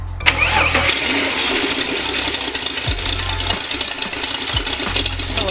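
A BMW E36 engine cranks and catches, then settles into a steady, rough idle with a low throbbing rumble and occasional hiccups, close and loud in a garage setting.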